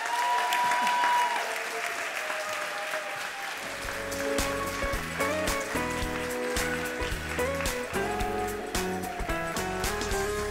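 A crowd at an outdoor garden party gala for the Western Center on Law & Poverty claps in a loud, steady wash of applause, while music starts partway through and keeps going under the clapping.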